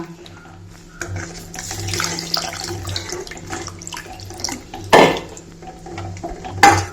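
Tamarind water, soaked in hot water, is poured into a pot for tomato rasam, giving a close, steady trickle with a few louder splashes and clinks near the end, and no talking.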